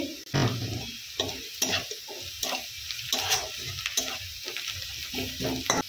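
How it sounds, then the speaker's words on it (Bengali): Spices with turmeric and chilli powder are stirred in a sizzling pan, each stroke a scraping burst over a steady frying hiss, close up and fairly rhythmic, with no talking. "একটু নাড়াচাড়া করে নিব। একটু হলুদ গুঁড়ো দিয়ে দিচ্ছি।"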